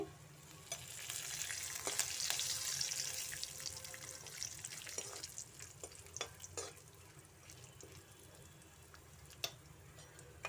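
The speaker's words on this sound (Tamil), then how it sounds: "அடுத்தது வெங்காயத்தை நல்லா பொன்னிறமாகிற வரையும் நல்லா வறுத்துக்கோங்க" Onions and curry leaves for poha fry in a pan with a faint, steady sizzle and scattered light stirring ticks, quiet and close, with no speech.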